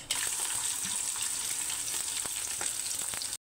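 Onions and green chillies fry in hot oil in a pan, giving a steady, close, bright sizzle with small crackles that runs without pause and then cuts off abruptly.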